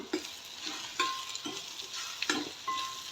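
Horse gram stir-fried in a spice tempering in a pan, with a continuous sizzle and several distinct scraping strokes of a spoon against the pan.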